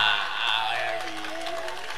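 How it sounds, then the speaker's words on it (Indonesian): Soldiers in an audience clap and cheer during a talk, a brief burst of crowd applause, fairly close and steady, fading slightly toward the end with some voices mixed in. "Tentara ini ngapa tepuk tangan?"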